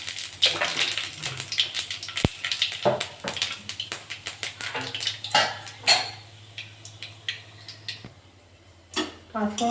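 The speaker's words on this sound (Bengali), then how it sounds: "পাঁচফোড়নটা একটু ভাজা ভাজা হয়ে গেছে" Panch phoron seeds fry in hot mustard oil in a wok at the start of a crab and prawn chorchori, giving close, rapid, scattered crackles and pops with a few utensil clinks over a low steady hum.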